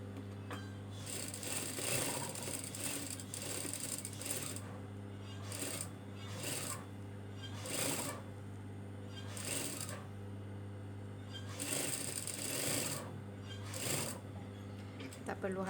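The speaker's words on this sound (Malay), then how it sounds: "jadi I akan jahitkan jahitan kasar" A sewing machine runs long basting stitches on dress fabric, its needle chattering in several short bursts separated by pauses over a steady low hum, while someone talks between runs.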